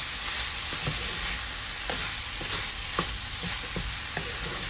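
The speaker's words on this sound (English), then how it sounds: "And I'm going to stir up." Chili with beans and added water stirred in a pan on the stove, a steady loud sizzling bubble with faint scraping spoon strokes scattered through, close up and without talk.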